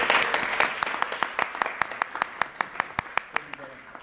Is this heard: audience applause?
yes